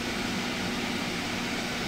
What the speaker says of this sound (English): Now by vacuum packing